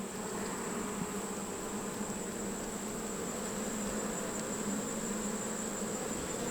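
Honey bees swarm around an open hive with frames exposed, a steady dense buzzing drone that stays constant and close, with no voices.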